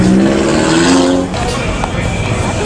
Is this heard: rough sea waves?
no